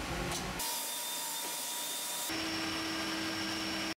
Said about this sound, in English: It's glued to the ugly edges of the veneered wood using this machine.